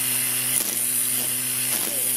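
A Makita weed eater cuts through big green weeds, its motor whining at a steady high pitch with brief rises in load as the line strikes stems, loud and close, with no talk.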